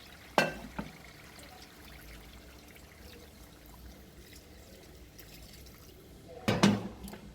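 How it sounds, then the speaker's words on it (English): Water pours from a kettle into a pot of cooking Jamaican-style curry goat, with two short splashy bursts, one near the start and a longer one near the end, separated by quiet kitchen sounds. "I'm just going to add some water"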